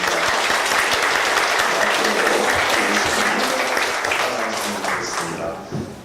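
Sustained audience applause at an international conference on forced mobilization under Japanese rule, dense and steady for about five seconds before thinning out toward the end, with some voices mixed in.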